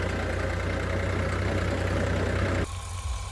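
A farm tractor engine idles steadily in a Punjab potato field, a loud, continuous low rumble that suddenly drops to a quieter, thinner idle near the end.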